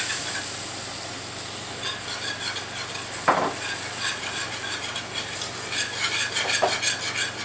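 Cold milk whisked into a hot roux for milk gravy, a continuous bright sizzle and bubbling with a rhythmic whisk or spoon scraping the pan and a couple of sharper metallic knocks, close up with no talking.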